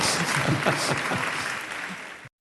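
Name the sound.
audience clapping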